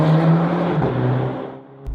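A VW GTI fitted with a Borla exhaust drives along, its engine and exhaust note droning up close and then easing off as the sound fades, with no talking.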